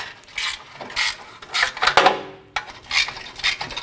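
Rusted 10 mm heat shield mounting bolts being loosened with a wrench, with a nut held by pliers: close metallic ratcheting and scraping in short repeated bursts, with a sharp squeal as one bolt breaks free.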